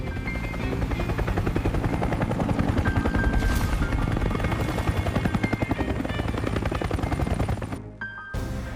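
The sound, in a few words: helicopter flying overhead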